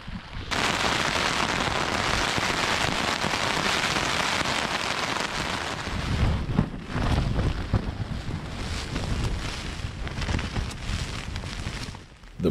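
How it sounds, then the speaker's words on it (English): A heavy nighttime rainstorm in the Sarek National Park wilderness: a loud, dense, continuous roar of rain lashing a surface, with gusts of wind buffeting close by and occasional heavier drumming. No voices. "a night with one of the heaviest storms that I have ever experienced"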